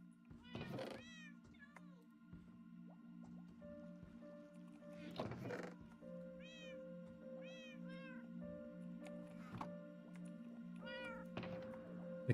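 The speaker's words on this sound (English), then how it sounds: "The cats in-game are saying hello," Cats in the Minecraft video game meow repeatedly, several short high mews scattered across a steady low hum, with faint clicks and splashy water-like movement sounds.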